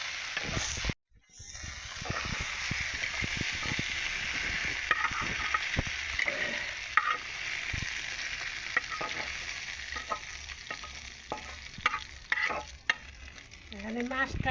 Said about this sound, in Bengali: মরিচ রসুন পেঁয়াজ একলাগে ভাজলাম